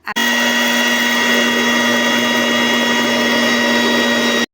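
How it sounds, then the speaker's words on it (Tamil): A kitchen mixer grinder purees boiled horse gram for soup, its motor giving a loud, continuous high whine that starts abruptly, holds steady for over four seconds, and stops. "நான் இப்போது அதை அப்படியே மிக்சி ஜாரில் போட்டு"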